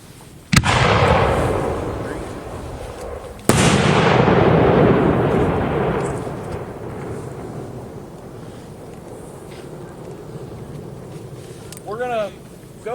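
A Dominator full-case large gold willow shell with a tail fires with a sharp thump, then bursts loudly about three seconds later into a long, crackling, hissing fall that slowly fades; a voice cuts in briefly at the end.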